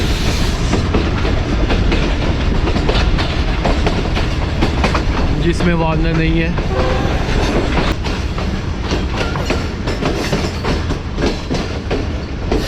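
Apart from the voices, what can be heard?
Mianwali Express train running on rails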